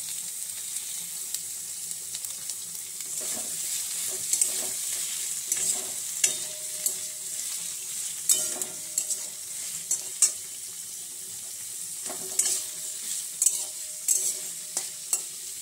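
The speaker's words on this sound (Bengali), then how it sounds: "দিয়ে ভালো করে কষতে থাকবো।" Small fish with spices are stir-fried in a pan, a constant hissing sizzle broken by repeated scraping strokes of a utensil, steady and close, with no voices.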